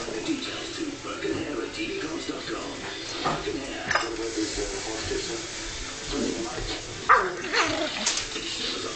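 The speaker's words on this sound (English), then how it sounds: "This is a video of an aggressive puppy." A pug puppy yips, whimpers and makes short growling barks in bursts at a sock, close by, with a person talking in between.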